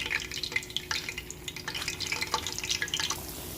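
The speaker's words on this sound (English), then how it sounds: "So we've dropped them and we are just gonna let them fry up pretty good" Pork chops frying in hot grease, a dense continuous crackle and sizzle with popping spatters throughout, close and fairly loud.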